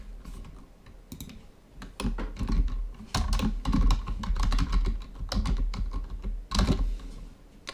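Computer keyboard typing as code comments are entered, rapid irregular key clicks in quick bursts with brief pauses, close and fairly loud, no voices.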